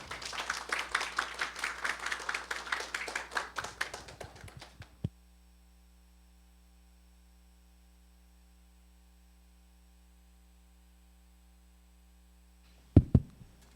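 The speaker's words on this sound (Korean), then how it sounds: "환영의 박수 부탁드립니다" A crowd at a KOGAS energy forum in Korea applauds a speaker for about five seconds, the clapping fading out into a low electrical hum, followed by a couple of faint thumps.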